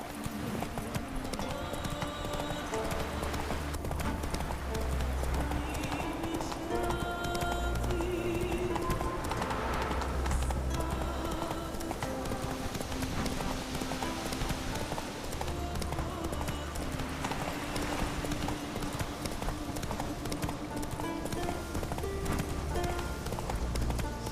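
Roach, Geralt's horse in The Witcher 3, trots along with steady rhythmic hoof clip-clops that come in runs, pause and resume over a faint ambient background, with a brief snort or whinny.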